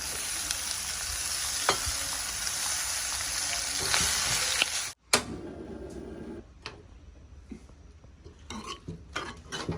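Goat intestines fry and sizzle in hot oil, a dense steady crackle for about five seconds, then after a sudden break a quieter sizzle with scattered clinks and stirring taps.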